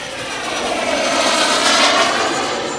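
A Kingtech 320 turbine jet engine on a large Fortune T3 RC jet roars in a continuous loud, high-pitched whine that swells slightly and then eases, with no talking.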